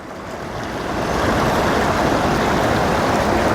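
Gravel and water swirled around in a gold pan, a steady rushing slosh that swells after the first second and stays loud and continuous, with no talking.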